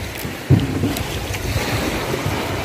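A fishing boat running on two 20 HP engines rumbles steadily at sea, with strong wind buffeting the microphone and water washing around it, plus a thump near the start.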